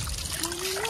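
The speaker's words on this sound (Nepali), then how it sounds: "ल यहाँ चाहिँ पानी आइरहेको छ" Spring water trickles in a soft, continuous burble over one short moment, faint and steady with no talk over it.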